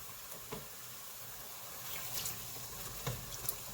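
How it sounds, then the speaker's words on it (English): Broth is poured into a thickening sauce on medium heat for sticky rice cracker wraps, a soft, quiet liquid trickle and splash with a few faint clinks, no talking. "it's thickening up, so I'm going to add some more broth."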